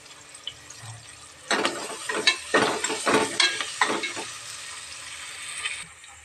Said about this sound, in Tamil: இப்போ நறுக்கி வச்சிருக்க ஒரு பெரிய வெங்காயத்தை போட்டுக்கலாம்